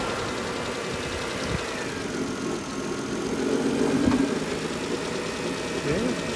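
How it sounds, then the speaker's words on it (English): An engine on an auction item idles steadily with a low, even mechanical drone and a faint knocking vibration that swells slightly partway through. "The motor sounds good."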